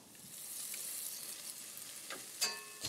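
Squab carcass, carrots, bacon and shallots sizzle steadily in a pan, a continuous close frying hiss with a few clicks and spatters near the end.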